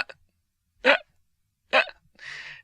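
A person demonstrates hiccups, giving two sharp, abrupt gulping hiccups about a second apart in a quiet room, followed by a short breathy exhale.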